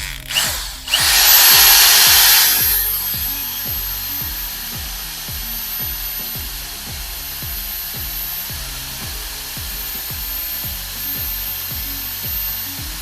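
Honey being stirred into surplus brown ale wort for a braggot with a drill-driven mixer: a loud motor whine kicks in after about a second, then settles into a steady churning hum with a regular rhythmic pulse throughout.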